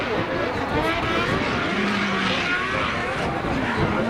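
A Nissan S14 drift car sliding through a French drift championship course, its engine a continuous loud roar with tire noise and crowd ambience throughout, under an excited commentator's voice.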